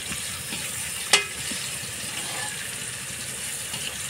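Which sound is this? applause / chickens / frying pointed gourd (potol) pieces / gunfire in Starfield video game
frying pointed gourd (potol) pieces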